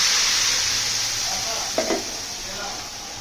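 Loud steady sizzling as dal is added to a pan of fried dried chilies, onion and garlic, with a brief stirring clatter partway through.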